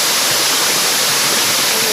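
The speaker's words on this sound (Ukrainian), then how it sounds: "Посеред лісу з висоти 11 метрів спадає вода." Forest waterfall with water falling 11 metres, heard as a dense, continuous roar and splash that stays loud and even throughout.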